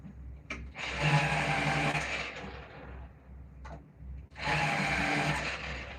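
A pencil sharpener grinds colored pencils in two separate bursts, each a harsh whirring buzz lasting a couple of seconds with a short gap between, close and fairly loud.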